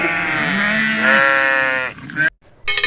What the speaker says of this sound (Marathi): शीप शीप म्हणजे मेंढी.